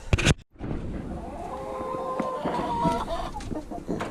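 Hens clucking in a coop warmed by an oil radiator heater during an arctic cold snap, with steady overlapping clucks close by and a brief bump at the start.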